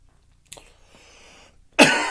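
A man coughs once with a sharp burst near the end, after a quieter throat sound earlier, close and loud against near silence.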